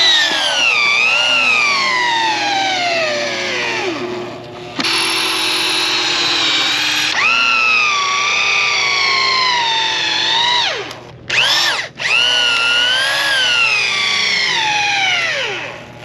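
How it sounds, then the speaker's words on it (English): A power drill whines loudly as it drives large screws into a wooden build, its pitch rising and sagging as each screw bites, with brief pauses between runs. "for now we're just putting the screws in"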